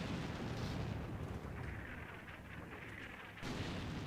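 Artillery shells land in the Combat Mission: Shock Force 2 war game, a dense rumbling barrage of deep booms that stays loud and continuous, dips briefly, then swells again near the end.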